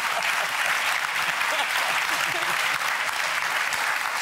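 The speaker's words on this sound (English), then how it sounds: "You guys deserve another applause for that." Steady, dense audience applause fills the whole stretch at a fairly loud level, a crowd clapping continuously without any break.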